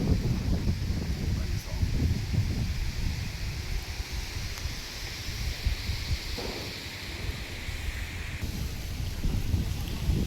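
The season's first monsoon rain comes in with wind and thunder in Sindhudurg. A dense, continuous roar of rain and gusting wind runs throughout, with low rumbling swells, and a voice is faintly heard in the background.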